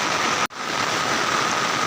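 Heavy rain falling over a flooded area with floodwater flowing across fields, a dense, steady hiss that fills the whole moment, broken only by a single abrupt dropout just before midway.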